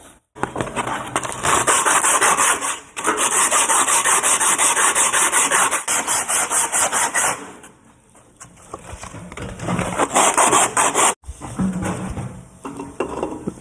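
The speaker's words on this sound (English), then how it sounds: "Maybe if I deburr this a little bit and then sand it" Hand deburring and sanding on the cut end of a straight-piped Subaru exhaust pipe, heard as loud, close, steady abrasive rasping strokes in long bursts with brief pauses and a quieter stretch in between.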